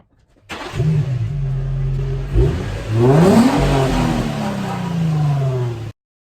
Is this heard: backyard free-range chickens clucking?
no